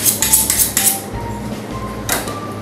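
A knife chops lamb meat into small pieces on a cutting board for Aksaray tava, giving a close run of crisp, uneven taps and scrapes with no talking.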